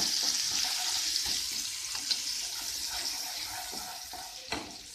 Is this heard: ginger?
yes